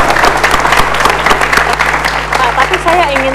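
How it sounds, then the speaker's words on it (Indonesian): Audience applause for Bapak Agus Gumelar at a televised event marking Elderly Day, steady dense clapping with a low hum and voices running underneath it. "Kita beri tepuk tangan yang meriah Bapak Agus Gumelar"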